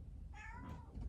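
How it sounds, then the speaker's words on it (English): A pet cat gives a single short, faint meow indoors, brief and slightly rising. "Today, that's my cat."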